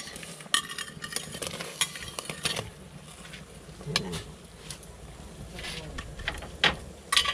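Tomato and onion go into a frying pan with sharp clatters of a utensil, then a sizzle with scraping and stirring, close and fairly loud, with a little background voice.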